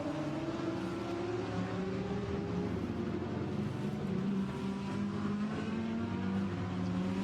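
A number 9 Bentley GT race car at Imola during free practice, its engine droning steadily with rising and falling pitch as it accelerates and shifts through gears. The engine is loud and continuous, with no voices.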